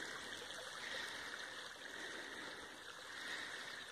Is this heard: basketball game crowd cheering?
no